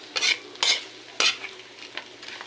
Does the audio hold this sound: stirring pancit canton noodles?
yes